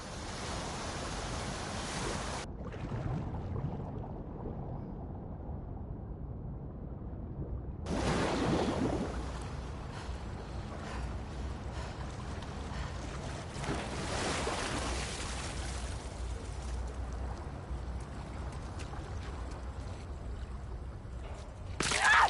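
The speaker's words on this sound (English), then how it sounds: "the player was faced with a fast-flowing torrent of water they couldn't cross" A fast-flowing torrent of water in The Last of Us Part II rushes and roars at a moderate distance, surging in waves with a brief quieter lull early on; no speech.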